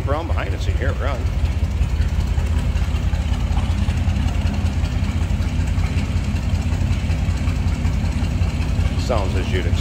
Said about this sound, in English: Slip around behind it so you can hear it run.